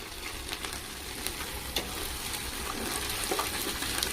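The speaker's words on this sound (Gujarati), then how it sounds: "વઘાર ચાલુ થઈ ગયો છે. આમાં પેલા બધા ખડા મસાલા નાખ્યા અને આદુ નાખ્યું છે." Whole spices and ginger crackle and sizzle steadily in hot oil for a tempering, a dense frying hiss with scattered small pops, close and continuous, heard alone without talk, outdoors at a farmhouse cookout.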